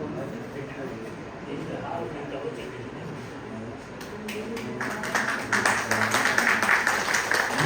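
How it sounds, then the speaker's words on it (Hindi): At a school cluster-centre farewell and felicitation ceremony, a voice speaks over a hall murmur, then a crowd's clapping swells and continues through the last few seconds. "जोरदार तालियों से अभिनंदन स्वागत"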